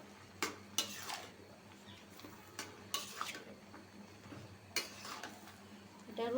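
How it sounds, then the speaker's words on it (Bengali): Potatoes and eggs are stirred together in a pan for a Bengali egg and potato dish, with a spatula scraping and clanking against the metal in several sharp strokes over a low steady background. "সবগুলা একসাথে যাতে প্রত্যেকটা আলুর সাথে প্রত্যেকটা ডিম মিশা যায় এভাবে"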